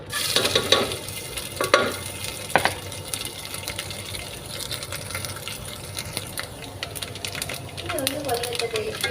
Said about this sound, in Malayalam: കുറച്ച് വെളിച്ചെണ്ണ ഒഴിച്ചു കൊടുക്കാം നമ്മൾ അണ്ടിപ്പരി നമ്മളെ തേങ്ങ കൊത്ത് ഒന്ന് വറുത്ത് കോരിയെടുക്കണം